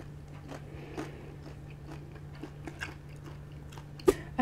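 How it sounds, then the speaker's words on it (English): Crispy Filipino pork dishes such as crispy pata, sisig and lechon kawali are chewed close up, with irregular crunchy bites and soft mouth noises over a faint steady hum, ending in one sharp crunch. "I feel really tired from all the chewing."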